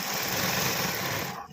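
Sewing machine stitching three layered pieces of doori fabric for a blouse design, a close, steady dense whirring hum running continuously before cutting off near the end.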